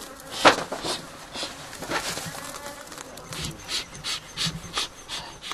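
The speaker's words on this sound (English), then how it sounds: "the bees can become a major nuisance" Bees buzz steadily and close around beekeepers during white honey production in Tigray, Ethiopia, the drone rising and falling as they swirl around, with scattered soft rustles beneath.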